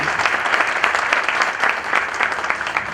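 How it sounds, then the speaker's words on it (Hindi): A church leadership conference audience in the UAE applauds steadily, with a dense, sustained wash of many hands clapping together in a large hall, loud and continuous throughout. "उनके लिए भी जोरदार तालियां।"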